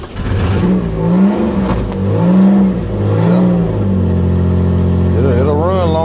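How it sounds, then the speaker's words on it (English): 2004 Chevy Impala that won't crank unless the gas is pressed, its engine revving up and down in several rising and falling swells, then settling into a steady run, loud and close, with a voice talking over it near the end. "But now if I give some gas"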